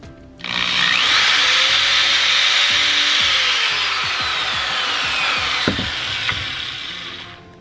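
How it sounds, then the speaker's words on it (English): A small power drill whirs steadily for several seconds, its motor pitch shifting as a small bit works through a polymer clay button, then winds down. "I am just testing out what size drill bits I want to use."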